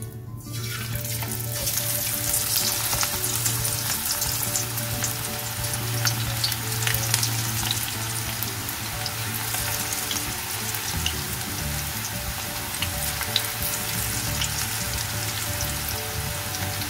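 Onion pakoda batter fries in hot oil, a close, dense, continuous sizzle with crackling pops throughout, loud and steady with no voices.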